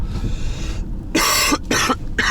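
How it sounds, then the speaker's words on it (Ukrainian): Three harsh, close coughs in quick succession inside a moving vehicle, following a short stretch of muffled low rumble, each cough a loud raspy burst. "друзі, у мене тут кашель"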